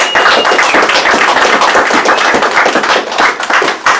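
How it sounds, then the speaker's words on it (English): Applause from an audience at a Woonsocket campaign event, loud and close, with dense clapping that holds steady for several seconds and then tails off. "Let's give him a round of applause."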